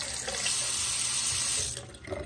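Hotel bathroom sink faucet at a Hampton Inn and Suites, water running in a strong steady hiss close by, then cutting off near the end.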